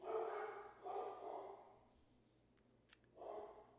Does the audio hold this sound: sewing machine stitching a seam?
no